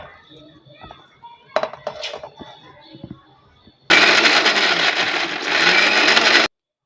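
An electric mixer grinds cumin, garlic, coconut and ginger in a home kitchen. After a stretch of talking and light clinks, it roars in loud and close for about two and a half seconds, then cuts off abruptly.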